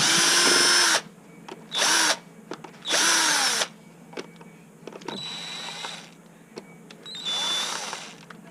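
A power screwdriver removes screws from a battery connection, whirring in several short bursts with pauses and faint clicks between them, close and clear, with no speech.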